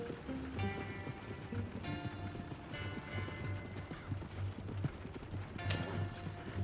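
Horse hooves clip-clop in a steady, unhurried rhythm, several animals walking together in the video game Red Dead Redemption 2, with faint clattering and background noise throughout.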